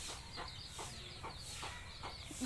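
Chickens cluck in quick repeated bursts over a constant background hiss, faint and somewhat distant, with no talking.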